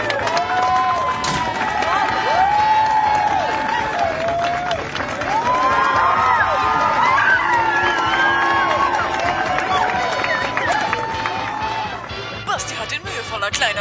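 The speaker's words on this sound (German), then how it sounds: "Begrüßen Sie nur mit einem recht herzlichen Applaus den heutigen Fragensteller" A studio audience greets a guest with loud, sustained applause and cheering, with shouts and whoops running for more than ten seconds before tapering off near the end.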